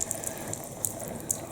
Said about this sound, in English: turn on the water just a little bit